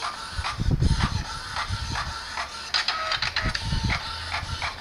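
An office paper printer powers up and runs a print job, giving repeated mechanical shuffling and feeding bursts with clicks, moderately loud and close in a quiet indoor room.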